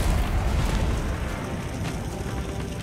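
In the video game GunsUp, a missile strikes a building wall, leaving a dense, loud roaring rumble of explosion and debris that stays heavy and sustained for the whole moment.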